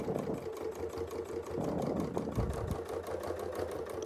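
A sewing machine stitches a quilt, its motor whirring in a fast, even run of needle strokes that stays close and steady with no pause.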